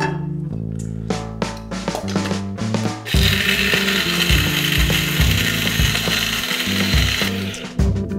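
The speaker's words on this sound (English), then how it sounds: "Carefully transfer the spices into the spice grinder." Electric spice grinder whirring on toasted fennel and other whole spices, starting with rattling clicks as the seeds tumble, then jumping into a loud steady high-pitched grinding roar before stopping, close up with no voices.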